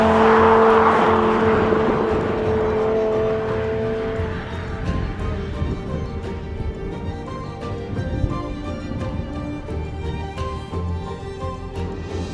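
A high-revving BMW M5 Touring V10 engine wails loudly, its pitch rising and then settling into a steady rough drone.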